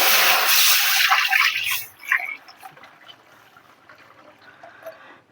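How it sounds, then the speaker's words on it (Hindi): Water pours into a hot kadhai while making sooji halwa, a loud hissing splash for the first two seconds that quickly fades into faint bubbling and sizzling. "अब इसमें चढ़ाएंगे हम कढ़ाई में ही पानी"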